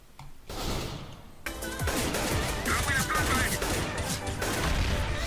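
Explosions and overlapping gunfire from a tactical shooter match (PUBG or CS:GO), a dense, loud burst of blasts and rattling shots running continuously after a brief quiet start, with faint voices underneath.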